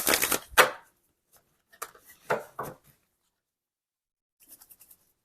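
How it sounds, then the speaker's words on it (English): An Animal Spirit oracle card deck is shuffled slowly by hand, giving a few short, close riffling and scraping bursts separated by silences, with a faint flutter of cards near the end. "I'm going to try and shuffle slowly so I don't just pop anything out of the deck"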